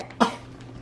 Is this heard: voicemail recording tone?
no